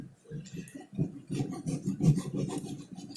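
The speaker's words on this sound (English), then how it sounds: "So now I am going to cut his head." Knife cutting through a shark's head during a dissection, a series of rough, rasping scrapes and crunching rubs in quick irregular strokes, fairly close and moderately loud, with no talking over it.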